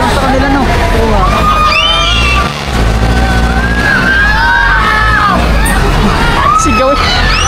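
People screaming and shouting on an amusement ride, a loud, continuous jumble of high yells and whoops mixed with nearby voices talking over the crowd noise.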